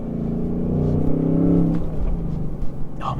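A 2024 Ford Mustang GT with a six-speed manual accelerates hard, its low V8-style engine rumble rising steadily and close, then easing off after a couple of seconds.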